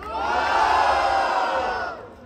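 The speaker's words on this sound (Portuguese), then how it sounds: "Barulho quem gostou das rimas de Jorge" A rap battle crowd roars with cheers and whoops for about two seconds, loud and sustained before fading out, with no single voice standing out from the mass.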